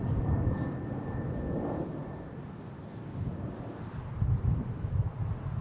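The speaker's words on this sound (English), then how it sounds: "There we got JetBlue coming in here from Key West. A220 flight 2064." JetBlue Airbus A220 arriving at Boston Logan from Key West: a distant, broad low roar of the jet that rises and falls gently, mixed with wind buffeting, no speech.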